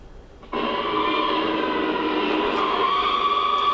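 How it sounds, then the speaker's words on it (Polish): A loud, sustained fire brigade siren wail starts abruptly and holds steady without pause, filling the whole stretch with a continuous droning tone. "Na przykład syreny straży pożarnej."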